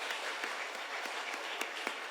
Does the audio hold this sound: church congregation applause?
yes